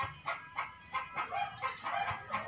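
A single chicken, freshly bathed, clucks in a quick run of about eight short, evenly spaced calls, close and fairly quiet, with no talk.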